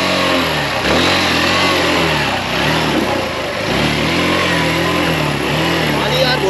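A Hero Xtreme 160R motorcycle engine revs loudly while wading through deep water with its silencer half submerged, the pitch climbing and falling in repeated surges close to the microphone.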